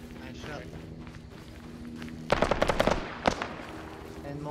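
Rifle fire in the military shooter Arma 3, a rapid burst of about eight shots followed by a single shot, loud and close over a low background hum, with voices talking around it.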